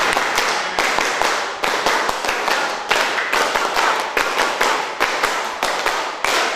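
Hizbul Wathan scouts perform the 'tepuk pandu' clap pattern twice through, a long run of loud, close unison hand claps in quick repeating clusters.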